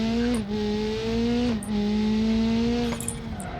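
A car in BeamNG.drive races at speed, its engine holding a steady high whine broken by two quick gear shifts, loud and close throughout.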